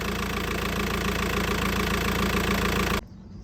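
A VW 2.0 TDI diesel engine runs steadily at idle after an oil pump drive shaft repair, with a loud, even knocking clatter close by that stops sharply near the end.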